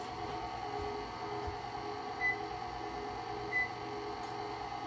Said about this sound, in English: Let me turn my oven on.